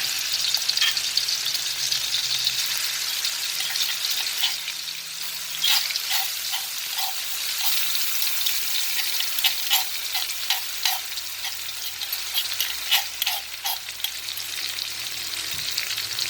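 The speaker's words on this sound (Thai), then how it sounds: "เรานำ มะขามนะครับ ที่เราตามไว้ ลงไปผัดเลยนะครับ" Tamarind stir-fried in oil in a pan for a tamarind chili dip, a continuous close sizzle with light scraping stirs and small ticking pops throughout.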